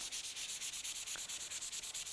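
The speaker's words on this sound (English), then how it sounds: "I'm sanding to remove this Razer logo" Steady rhythmic sanding scrapes across a PC case surface to remove a Razer logo, the strokes coming in even quick passes, fairly quiet and close with no talking.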